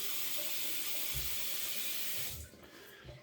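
Tap water runs steadily into a sink as a shaving brush is wetted, a loud continuous hiss that cuts off after about two seconds, leaving quieter drips and handling.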